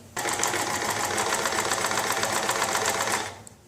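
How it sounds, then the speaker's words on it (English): A Singer 5528 sewing machine runs steadily after its motor and bobbin belts were replaced, giving a continuous close rapid mechanical whir and clatter for about three seconds before winding down. "Looks like it's sewing."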